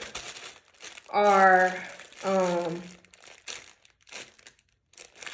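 Clear plastic packaging holding transparent zippers crinkles in two long, close bursts as it is handled and opened, then a few lighter rustles follow, with brief speech nearby.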